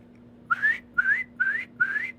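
Someone whistles by mouth to imitate sharp whistles heard at night, producing four short rising whistles in an even row, close and clear over a faint hum.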